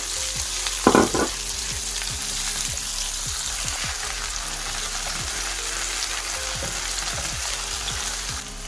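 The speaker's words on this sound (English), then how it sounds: "we're going to bang in the green onions, spring onion, and fry that up for a further couple of minutes" Steady sizzling of spring onions frying in a hot pan, a constant crackle with occasional scraping stirs and one brief louder clatter near the start.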